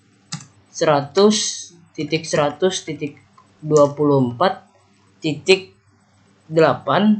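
Keys clatter in quick bursts on a computer keyboard as router network commands are entered for EIGRP routing, mostly buried beneath continuous close talking.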